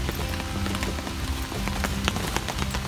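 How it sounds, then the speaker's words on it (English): Rain falling steadily on a muddy UK campsite, a dense continuous patter with scattered sharper drops striking a tarp or hard surface, fairly loud and close with no talking. "It's raining."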